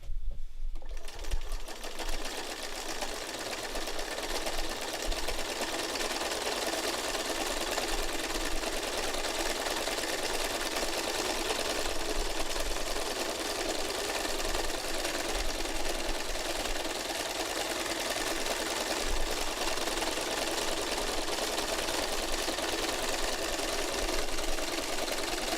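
Sewing machine running steadily for free motion quilting, a continuous close mechanical whir with rapid needle clatter that holds even throughout, without pauses or voices.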